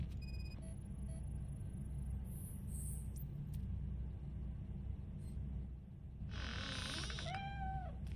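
A cat meowing in the video game Robocop: Rogue City, two clear rising meows near the end over a low rumbling game ambience, with brief electronic tones earlier.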